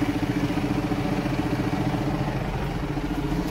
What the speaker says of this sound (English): Yeah, this is a tractor.